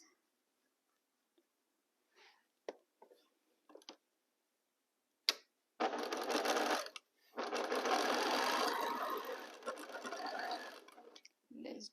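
A sewing machine joins quilt pieces for a King's X block with a 1/4 inch seam. Two sustained, close runs of stitching follow a few scattered fabric-handling taps, with a brief pause between them.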